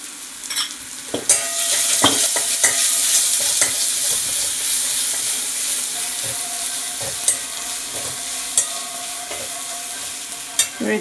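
Country chicken fries in a pan with garlic, coriander, chili and turmeric powders, sizzling continuously while a spoon stirs and scrapes with sharp, irregular clacks; nobody speaks.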